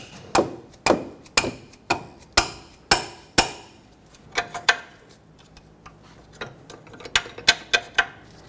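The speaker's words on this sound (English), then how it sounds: "with the help of a rubber mallet" A rubber mallet strikes the steering knuckle of a 2006-2010 Hyundai Sonata during outer tie rod replacement, landing about a dozen sharp, close knocks in a steady rhythm with short pauses, then a quicker cluster near the end.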